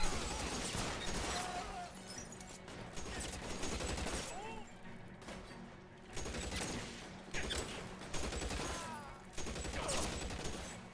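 Rapid bursts of gunfire from a police shooter video game crackle in repeated volleys, loud and busy, with intermittent voices talking over the action.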